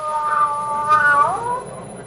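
In a CBS radio mystery drama, a cat meows loudly in one long, drawn-out, wavering caterwaul close to the microphone, with no one speaking.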